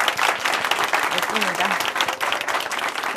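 Church audience applause fills the room with dense, steady clapping throughout, while a speaker talks briefly over it.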